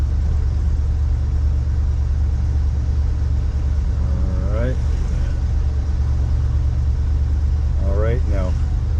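1975 Ford F100 4x4 truck lugging uphill with a steady low engine drone throughout, and voices talking briefly twice over it.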